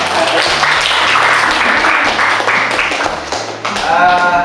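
Audience applause at a teachers' workshop, a loud, dense, sustained wash of clapping from a crowd filling the room throughout.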